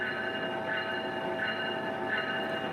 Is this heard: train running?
yes